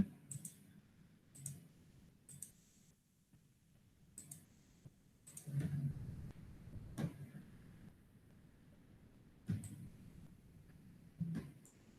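Computer mouse clicks come sparse and faint, a dozen or so crisp single and double clicks spaced irregularly over quiet room noise.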